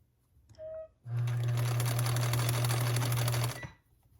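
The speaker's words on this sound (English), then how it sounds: "Couple of stitches at a time, always stopping with your needle down in case you pull too hard on it." A sewing machine stitches fabric for headband bows. A short whir is followed by a sustained, steady motor hum with rapid needle clatter for a couple of seconds, close and loud, and then it stops.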